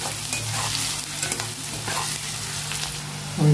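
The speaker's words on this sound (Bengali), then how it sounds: "এবার আমি একসাথে পেঁয়াজ, রসুন আর কাঁচা লঙ্কাটা ভেজে নেব।" Onion, garlic and green chili fry together in a pan with a steady, close sizzle and occasional stirring scrapes, the hiss holding even throughout.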